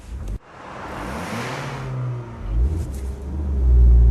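A Mitsubishi Evo X or 2008 Subaru STi engine revs hard at full throttle against the brakes, a rising roar after a brief pause, growing louder and deeper toward the end.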